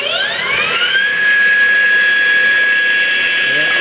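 A Baileigh DP-1500VS 20-inch variable-speed drill press spins up at its higher speed setting, a whine climbing in pitch for about a second and then holding as a loud, steady, high motor tone close by.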